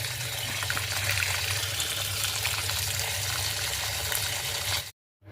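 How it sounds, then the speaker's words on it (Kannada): Water runs steadily from a tap into a container to soak something for cleaning, a continuous close gush that holds even and loud for about five seconds before cutting off abruptly into silence. "ಈಗ ನಾನು ಇಲ್ಲೇನದ ಇದಕ್ಕೆ ನೀರು ಹಾಕಬೇಕಾಗ್ತದೆ"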